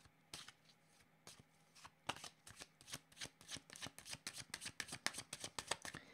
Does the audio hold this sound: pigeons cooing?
no